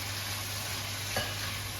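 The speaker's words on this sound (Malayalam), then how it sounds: "അരി ഇട്ടിട്ട് നമ്മുടെ തീ ഫുൾ ഫ്ലെയിമിൽ വെച്ചിട്ട് ഇത് നന്നായിട്ടൊന്ന് വറുത്തെടുക്കാം കേട്ടോ." Soaked rice stir-frying with spices in a pan over full flame, giving a steady close sizzle and hiss with a brief scrape of stirring near the middle.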